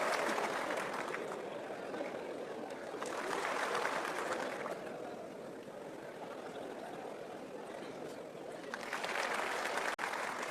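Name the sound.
audience applause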